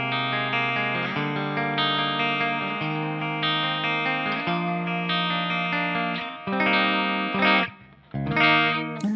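Electric guitar with the bridge pickup coil split, playing sustained, layered chords with a thinner, brighter tone, steady and loud with no talking, briefly dipping near the end before resuming.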